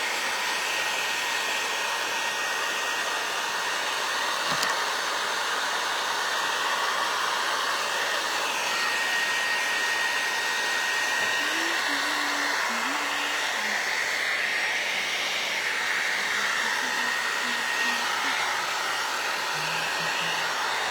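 Steady, loud whir of a hair dryer blowing without pause on a gesso-coated bird mould casting with gold leaf, a constant airy roar filling the whole stretch with no talking.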